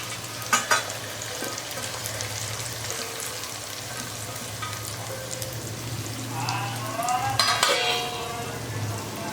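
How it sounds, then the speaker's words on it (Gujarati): Undhiyu vegetables being stirred in a pan, frying with a steady broadband sizzle throughout, a few louder scraping clatters of the spoon near the start and again toward the end. "તો હવે આને આપણે સરસ રીતે હલાવી લઈશું."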